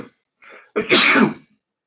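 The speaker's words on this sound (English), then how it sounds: "I got to sneeze, sorry" A single loud sneeze, preceded by a short sharp inhale, close to the microphone, then silence.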